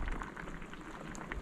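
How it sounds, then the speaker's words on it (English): Potatoes and eggs boil in a pot of ocean water, giving a quiet, steady bubbling and popping simmer heard alone and up close. "So I'm cooking some potatoes and eggs."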